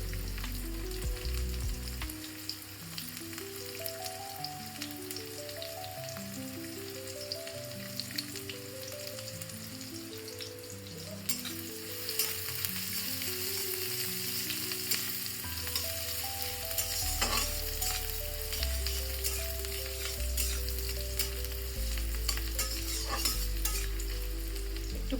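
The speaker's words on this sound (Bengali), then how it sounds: "তো এটা হয়ে গেলে পেঁয়াজগুলো দিয়ে দেবো ভালো ভালো করে" Onions fry in a pan for a prawn malai curry, hissing in a steady sizzle with occasional stirring scrapes, while background music plays throughout and no one speaks.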